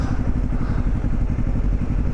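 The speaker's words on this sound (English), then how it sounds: "That was Ben's attempt at drifting." ADV motorcycle engine rumbling steadily up close while being ridden in a drift attempt, a dense low-pitched throb with faint clatter running throughout.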